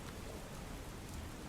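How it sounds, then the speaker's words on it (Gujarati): Heavy monsoon rain pours down near the Men River in Gujarat, a dense, steady outdoor hiss of falling water with no break or voice over it. "ગાજવીજ સાથે વરસાદ પડી રહ્યો છે"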